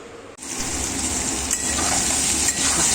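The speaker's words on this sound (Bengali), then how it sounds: "এখানে উচ্ছেটা ভাজা হচ্ছে" Bitter gourd slices frying in a pan, a continuous close sizzle with faint crackle that starts abruptly after a short quiet moment and holds steady to the end.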